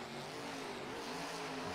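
An off-road racing truck pushes its engine hard through a Chicago-style turn, a continuous roaring rev with tire noise, loud and steady throughout.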